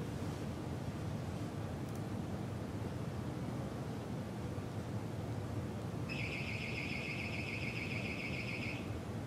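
An alarm set off by stepping on a triboelectric floor sensor under carpet beeps as a steady high-pitched tone for about three seconds over constant background hiss.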